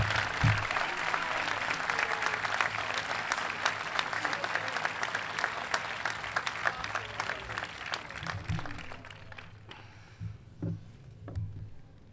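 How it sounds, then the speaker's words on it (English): Graduation crowd at a high school ceremony claps for the class of 2016, a dense sustained applause that thins out toward the end with scattered claps. "please clap"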